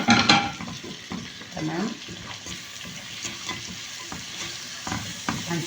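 Chopped tomatoes, four of them, hit a pan of spices and fry with a steady sizzle while a spoon stirs and scrapes through them. A brief spoken word comes at the start.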